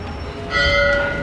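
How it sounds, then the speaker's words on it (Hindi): Temple bells at Laxmi Narayan Temple in Chamba ring with bright sustained tones, a new strike swelling louder midway and lingering over a faint background murmur. "जो घंटियाँ बज रही है"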